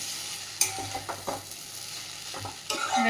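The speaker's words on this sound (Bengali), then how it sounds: "চাউমিনটা হয়ে এসছে আর একটু ভাজা ভাজা করবো" Chowmein stir-fried in a pan at a home kitchen: soft sizzling with intermittent scraping and stirring strokes of a utensil, close and fairly quiet, with no talk.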